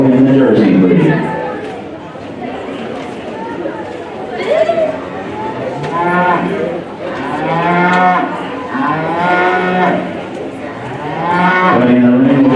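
Jersey dairy cattle at a junior county livestock show moo several times, loud and close, over steady crowd chatter and a voice on a public address system.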